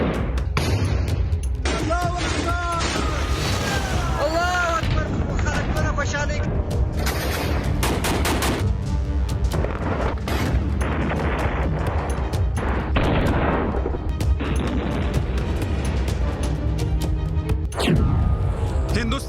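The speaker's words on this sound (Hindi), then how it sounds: "अफगानिस्तान में बम बारूद की बौछार हो रही है" Gunfire and explosions in the Afghanistan conflict: loud, dense bursts of shots and booms crowd together without a break, heavy and harsh, while a voice speaks over parts of the chaos.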